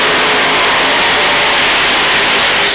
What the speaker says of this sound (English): 5 American Arias engines straining with the sledge.